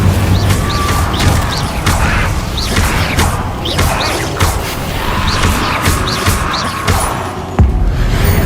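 The Incendio fire spell cast in Hogwarts Legacy amid a busy magical duel, loud and dense, with whooshing bursts, crackles and heavy thumps layered over a constant rumble of combat effects.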